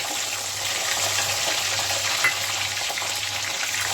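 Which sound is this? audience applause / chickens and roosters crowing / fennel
fennel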